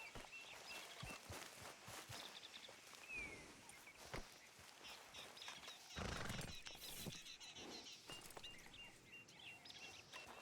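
A horse moves with sharp hoof clip-clops, some snorting and a burst of rustling movement. Birds call faintly outdoors, and a rider's quiet voice is briefly audible.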